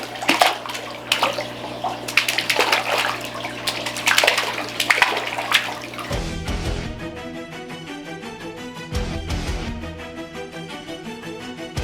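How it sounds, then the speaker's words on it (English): Water splashes and churns in a backyard pool pond holding giant catfish, bursts of sloshing and spraying in the first half giving way to a steadier, bubbly trickle, close and fairly loud. "The splashing."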